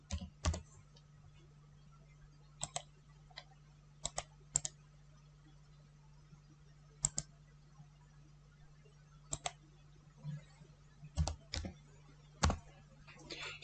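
Someone types in Microsoft Word on a computer keyboard: sparse, irregular keystrokes, single and in small bursts, crisp and close over a faint steady hum.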